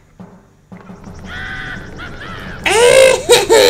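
A person imitates crow cawing with a series of loud, harsh, rising vocal caws near the end, following quieter game sounds from New Super Luigi U.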